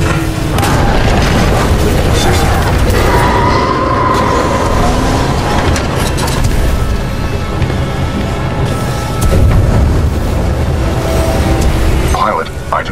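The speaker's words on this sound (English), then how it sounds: "a series of explosions just weakened the manipulator arm" Explosions in the video game Titanfall 2 boom and rumble continuously, loud and dense, mixed with clattering debris and a mechanical din while a voice speaks over the action.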